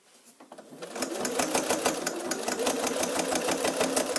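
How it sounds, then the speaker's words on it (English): A sewing machine with a Microtex 90 needle stitches a bag's side seam close to the fold, a rapid even run of needle strokes starting after a brief quiet lead-in and holding steady, close and clear. "Now I am sewing down very close to the fold."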